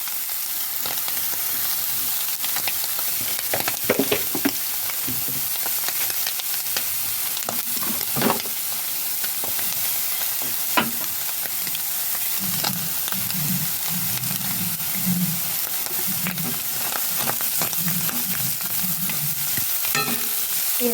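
Food being stirred and fried in a pan after salt and pepper powder go in, a steady close sizzle broken by repeated scrapes and clinks of a spoon against the pan.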